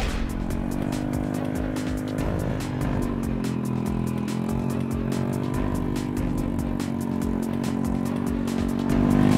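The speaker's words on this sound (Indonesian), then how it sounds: "Tanjakan yang curam membuat motor berat untuk melaju." A motorcycle loaded with over 20 kilos of sugar palm fruit struggles up a steep village slope, its engine droning steadily and laboring throughout, loud and close, with a slight surge at the end.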